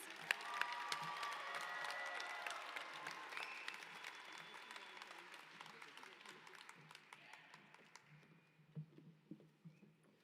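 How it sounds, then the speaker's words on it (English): Audience applause for scholarship recipients at the WCSD RiSE Academy graduation ceremony, a dense steady patter of many hands that thins toward the end, with faint voices underneath. "one more round of applause for our scholarship recipients"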